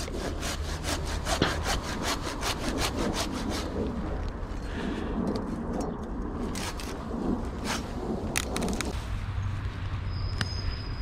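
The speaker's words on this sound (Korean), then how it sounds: "이렇게 조금 여유를 두고 자르겠습니다" Hand saw cutting through a pine branch while pruning a pine tree into a shaped form, steady back-and-forth rasping strokes close up and fairly loud, continuing for about eleven seconds with no talking.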